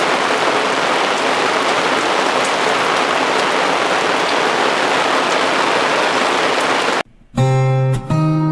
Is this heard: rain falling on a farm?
yes